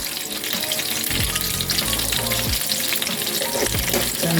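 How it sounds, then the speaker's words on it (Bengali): Dry red chillies and whole cumin seeds crackle in hot oil for a chana masala tempering, a loud steady sizzle with bursts of popping and several low scraping stirs running through, no voices. "এখন আমি একটু শুকনো মরিচ আর আস্ত জিরা দিয়ে একটু ফোড়ন দিয়ে দিচ্ছি।"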